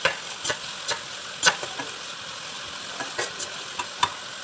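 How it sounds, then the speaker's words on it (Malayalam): Fried rice with chicken Maggi cubes being stirred and sautéed in a pan, with irregular spatula scrapes and clacks over a faint, steady sizzle, fairly close and with no voices. "ഇതാണ് നല്ലപോലെ വഴറ്റുക"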